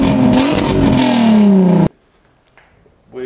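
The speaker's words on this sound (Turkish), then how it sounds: "Da bu egzoz biraz sesli." A MK2 Golf with a swapped R32 engine, 4x4 and DSG revs loudly through a noisy exhaust, the engine note sweeping up close to the microphone before cutting off abruptly into near silence.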